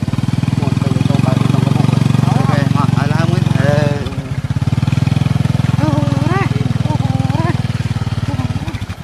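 A scooter engine runs steadily while animals sit aboard the ride, with a brief dip in the drone partway through and animated voices talking over it throughout.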